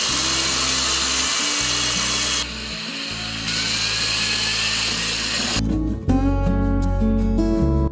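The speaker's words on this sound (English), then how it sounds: "I'm going to switch out the drill bit for a smaller one" Loud whine of an electric drill running continuously, pitch shifting as it bites into a pumpkin and changes speed, close up, with no talking.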